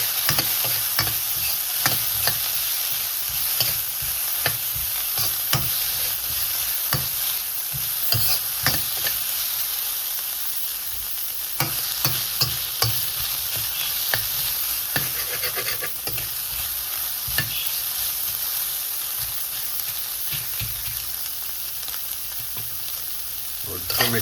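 Cubed pork frying in a pan with onions for fried rice: a continuous bright sizzle under repeated scraping and clattering stirs of a utensil, close and fairly loud for about twenty-four seconds, with no one speaking.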